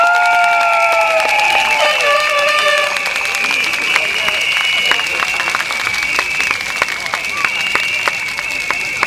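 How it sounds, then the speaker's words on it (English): Crowd at a political party election rally in Sengkang, Singapore, breaking into loud sustained applause and cheering, dense clapping with shouts, close and filling the space. "Round of applause."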